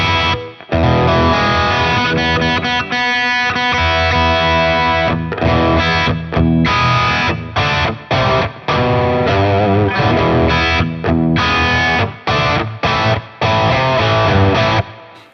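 Electric guitar through a ToneX One pedal using an Azor into an Uzi, loud heavily distorted riffing with chugging palm-muted chords and sharp stops, played continuously without talking.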